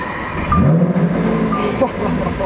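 A Lamborghini Aventador in perfect shape with 14,000 miles cranks and fires up, its engine note swelling and settling into a loud, steady idle rumble close by.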